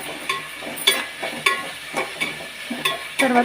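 Capsicum curry is stirred and fried in a pan, with rhythmic spatula scrapes and clanks about every half second over a low sizzle, close and fairly loud.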